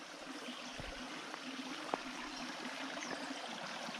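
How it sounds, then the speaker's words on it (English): Babbling brook at Spring Grove Creek in Monona County, Iowa, water trickling over rocks in a steady close gurgle with a few soft splashes and one brief knock. "You can hear this babbling brook."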